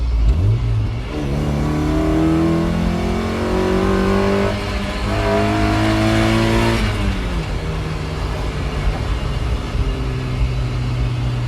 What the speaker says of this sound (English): when you really start to climb through the rev range and get towards the red line, that's just when this engine really comes alive